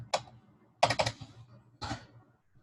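Keys on a computer keyboard tapped in three quick, close bursts of clicks separated by short pauses, fairly quiet, with no talk.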